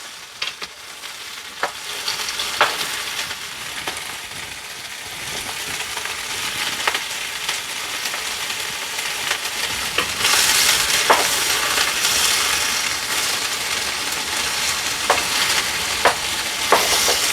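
Vegetables sautéed briefly in a pan while making pizza sauce, a steady broadband sizzle with scattered stirring clicks and scrapes, close and continuous, rising slightly louder partway through.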